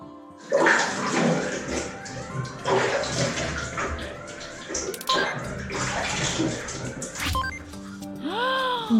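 Tap water runs and splashes at a sink as children wash their faces, with bursts of scooping and splashing and faint voices mixed in.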